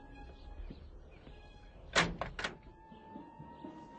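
Faulty door being opened: a few rattling, scraping knocks in quick succession, fairly close, over a low background hum.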